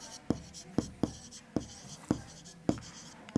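Chalk or pen strikes on a classroom board during a Class 6 maths lesson: about seven short, sharp taps and strokes in an irregular rhythm, close and fairly clear, with faint room noise between them.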